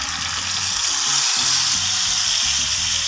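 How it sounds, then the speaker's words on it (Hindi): Saag being tipped into a hot tadka in a village kitchen, sizzling and frying loudly and steadily throughout, with stirring and scraping in the pan close up and no talk. "अभी हम साग शामिल कर देंगे।"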